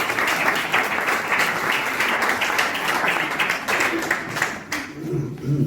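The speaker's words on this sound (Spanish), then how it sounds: "Un aplauso," An audience at a communication workshop gives a steady round of applause for Fernando, dense clapping that runs on before thinning out at the end as a voice starts to speak.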